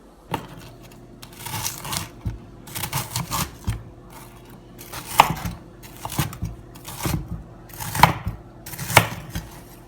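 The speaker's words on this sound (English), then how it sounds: "We're gonna now take this and cut it up into little cubes and then put it through the food processor and turn it into breadcrumbs." A knife chops bread into little cubes for breadcrumbs on a board, giving a steady run of crisp cutting strokes, close and fairly loud with short pauses between bursts.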